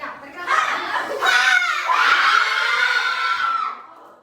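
A group in a microteaching classroom lets out a loud, sustained shout while exhaling during a breathing exercise, with the voices swelling and holding together for about three seconds before fading.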